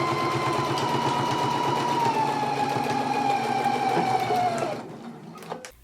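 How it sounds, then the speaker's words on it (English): A sewing machine stitches a seam with a close, steady whirring run for several seconds, then slows and stops, leaving a few faint clicks of handling afterward. "now we can go to the machine and you want to stitch it at a 5/8 of an inch seam allowance"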